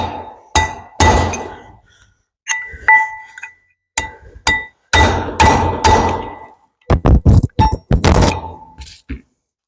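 Hard metallic hammer blows driving a bearing onto a 7000 axle, loud close strikes in irregular bursts with ringing clinks, some quick runs of rapid hits and short silent gaps between.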